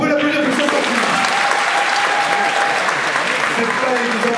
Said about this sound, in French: Merci beaucoup, on peut l'applaudir pour ça.